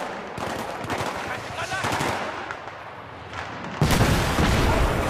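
Gunfire and a grenade blast in Battlefield 3: dense automatic fire rattles through the opening seconds, then a loud, broad explosion bursts in near the end and rumbles on.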